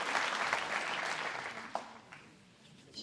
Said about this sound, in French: vous pouvez les applaudir bien fort, les enfants